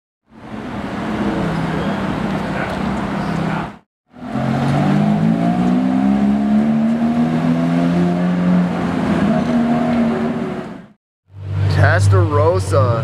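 Ferrari Testarossa supercar passing close by in a loud, sustained engine roar with shifting pitch, then a brief gap and a second sharp revving burst near the end.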